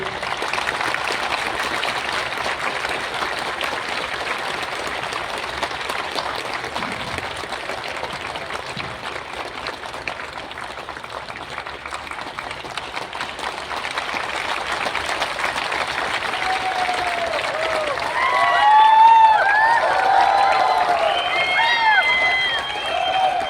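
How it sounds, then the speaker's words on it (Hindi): An audience at a large indoor gathering applauds, a dense, steady wash of many hands clapping that runs throughout and swells slightly near the end, with some crowd voices underneath. "तो आप लोग अच्छे से ताली बजा लीजिए।"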